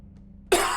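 A single sharp cough bursts out loud and close after a moment of near silence.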